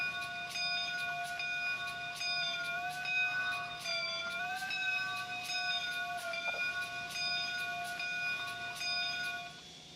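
Simulated locomotive bell of the CP H1a Empress 2816 in Trainz rings in a steady repeating rhythm, bright metallic clangs about twice a second, continuous for ten seconds without speech.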